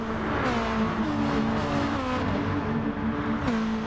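A racing car engine in GT Sport, a Beetle lapping the Nürburgring GP circuit, holds a steady, loud drone onto the straight, its pitch wavering slightly and briefly climbing near the end.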